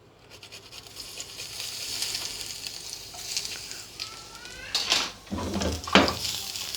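Light sizzling of garlic frying in hot oil, with soft crackles and a few clinks of utensils against a pan near the end.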